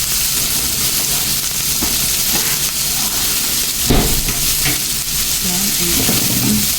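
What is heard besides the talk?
white onion frying in a pan for bangus sisig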